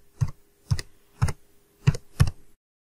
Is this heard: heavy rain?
no